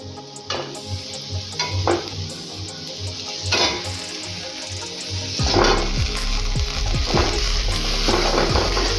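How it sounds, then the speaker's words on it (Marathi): Brinjals tipped into sizzling masala and sautéed for Maharashtrian stuffed brinjal, a steady close frying hiss with repeated clanks of a spoon against the pot, growing louder and fuller partway through. "आता हे व्यवस्थित परतून झालेलं आहे आता यामध्ये आपण वांगी टाकूयात"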